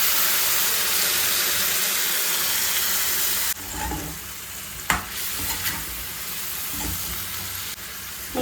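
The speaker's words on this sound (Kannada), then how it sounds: "ಸೊ ನೋಡಿ ಹುಣಸೆ ರಸನ ಆ್ಯಡ್ ಮಾಡ್ತಾ ಇದ್ದೀನಿ ನಾನು" Tamarind juice hits hot oil with frying eggplant for North Karnataka ennegayi, releasing a loud, steady hissing sizzle that drops into a quieter bubbling fry with occasional stirring clatter.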